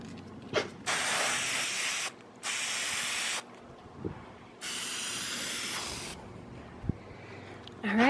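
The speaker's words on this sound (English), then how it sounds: "did two layers of the spray sealant" Spray sealant hisses from an aerosol can onto glitter-covered canvas shoes in three long, steady bursts with short pauses between, close and fairly loud, with a few faint handling knocks.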